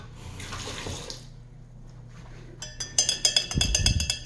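A kitchen tap runs as a straw is rinsed under it, a soft splashing flow that grows into louder, choppy spattering near the end.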